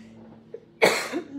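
A single sharp, close cough breaks out from a host during a live paper-crafting broadcast, loud against an otherwise quiet room, with a short rough tail after the burst.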